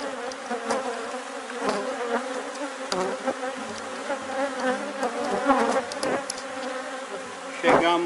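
Honey bees swarm at an opened hive during a colony split and queen rearing, giving a dense, continuous buzz close up, with individual bees whizzing past the microphone and no talking.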